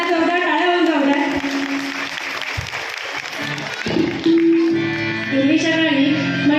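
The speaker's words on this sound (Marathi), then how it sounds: "एकदा जोरदार टाळ्या होऊन जाऊ द्या" Audience at a Mangalagaur women's festival performance in Diva, Mhasala, Raigad, breaking into sustained applause, a dense clapping wash that swells in the middle, mixed with singing and voices over it.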